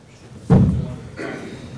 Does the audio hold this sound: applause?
no